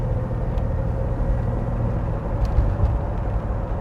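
A 1932 Ford street rod drives down the road, its engine a steady low rumble inside the cabin with constant road noise and no talking.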